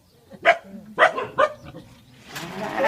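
A dog barks three times in quick succession at a rural Thai house, close and fairly loud, followed by a softer noisy stretch with faint distant sounds.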